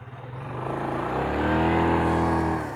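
A quad bike (ATV) stuck in a bog, its engine revving hard and climbing in pitch as the throttle opens, loud and close with a rough mechanical drone.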